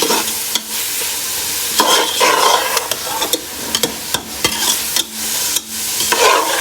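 Macaroni pasta mixed with a packet of achar gosht masala, stirred in a pan: loud close scraping and clattering of a spoon against the pan in irregular strokes over a light sizzle.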